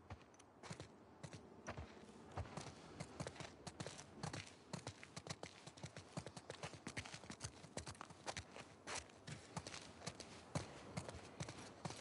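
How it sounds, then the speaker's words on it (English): Horse hooves clip-clop steadily on the ground in The Last of Us Part II, a dense, continuous run of close, crisp hoofbeats with no talk over them. "Let's get back to the horses."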